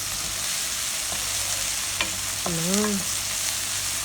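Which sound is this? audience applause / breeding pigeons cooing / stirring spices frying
stirring spices frying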